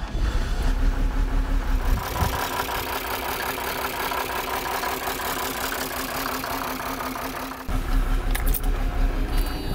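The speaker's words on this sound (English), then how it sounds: "Let's go ahead and kick the motor over. So you can hear what this thing sounds like." Keys jingle, then the diesel engine of a high-mileage Mercedes 300DT W124 cranks and catches, settling into a steady, clattery idle close by; a brief rev near the end.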